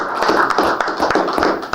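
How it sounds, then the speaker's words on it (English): Applause at a village board meeting for the water department and highway crews gives a brief run of dry, rapid hand claps, close and fairly loud, ending almost at once. "I would like to give a round of applause to the water department and highway."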